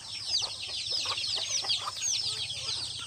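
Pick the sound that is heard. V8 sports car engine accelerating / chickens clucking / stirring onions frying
chickens clucking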